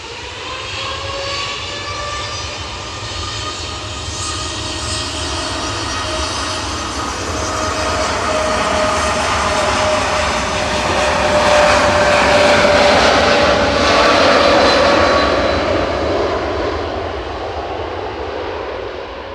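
Jet airliner taking off from Manchester Airport on flight 2668 to Palma, a loud sustained engine roar with whining tones that swells toward the middle as it passes, then eases slightly, with no talking.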